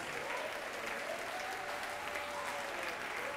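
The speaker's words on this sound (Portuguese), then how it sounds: "Vamos aplaudir mais, vamos aplaudir mais." Sustained applause from a church congregation at a televised worship service, a steady, even wash of clapping that is loud and continuous throughout with no break.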